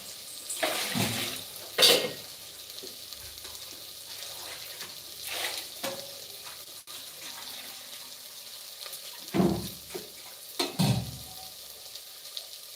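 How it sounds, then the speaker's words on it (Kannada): Water is poured into a pot of rice and ground paste for a fenugreek-leaf rice bath, coming as a few separate splashing pours over a low background. "ಈಗ ನಾವು ಬೇಕಾದಿರೋಷ್ಟು ನೀರು ಹಾಕೊಳ್ಳೋಣ"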